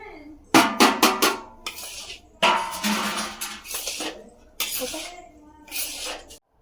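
Chickpea flour being mixed in a bowl with a prepared blend of other ingredients, giving close, loud bursts of clinking and scraping in irregular clusters with short pauses between them.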